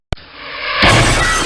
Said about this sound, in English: And it smashed into pieces on the floor.